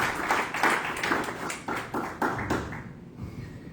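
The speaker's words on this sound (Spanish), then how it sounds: "Dale un fuerte aplauso a la palabra." A church congregation claps in a quick, regular rhythm, a run of sharp, even slaps that fades out near the end.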